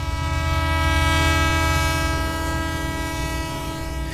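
A train rumbles past while its horn sounds one loud, sustained, steady blast close by, with heavy low rail rumble underneath throughout.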